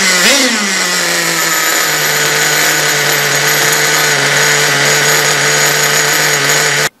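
A radio-controlled car's glow engine runs during break-in, revving up sharply at the start and then holding a loud, steady high-pitched buzzing drone before cutting off abruptly at the end.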